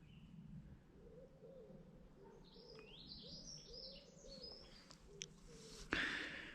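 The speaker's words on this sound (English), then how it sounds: "You can hear pigeons and pheasants and little songbirds" Faint birds call outdoors, pigeons cooing softly and low with higher songbird chirps and pheasants, fairly distant in a quiet setting, with a brief louder bump near the end.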